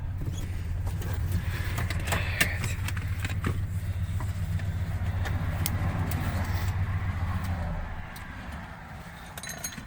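A 1970 Buick 455 big-block estate wagon idles with a steady, close low rumble while it is overheating. The rumble drops away near the end, leaving quieter background noise.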